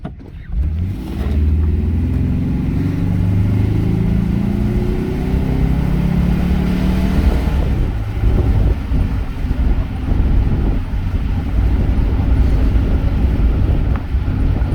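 A 1993 Ford Explorer engine rated at 150 horsepower revs up loudly and holds a strong, droning roar for several seconds, rising and falling slightly, close by with no talking.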